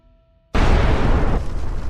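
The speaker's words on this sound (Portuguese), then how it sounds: "uma explosão superpoderosa faz o solo tremer" A meteorite impact explosion rendered as a documentary sound effect, a sudden loud booming blast after brief quiet that roars on with heavy low rumble and slowly fades.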